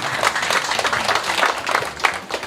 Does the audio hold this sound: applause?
yes